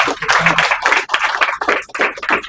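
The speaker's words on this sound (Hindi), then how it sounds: "तो तालियां हो जाने के लिए जबरदस्त।" An audience claps steadily in a dense, continuous burst of applause that fills the room.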